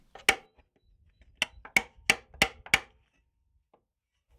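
Hammer blows on a sheet-metal panel being shaped for rust repair on a Volvo 850 body: a single sharp clang, a pause, then five hard, ringing strikes in quick, uneven succession, close and loud against a quiet background.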